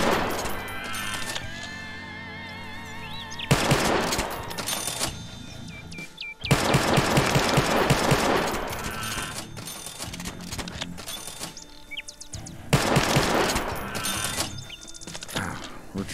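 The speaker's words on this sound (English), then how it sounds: "I probably don't need to be putting 3 rounds into each one" Scar and MP5 gunfire in the hunting game Venari, fired in loud bursts of rapid rounds separated by quieter gaps, with the shots sounding close.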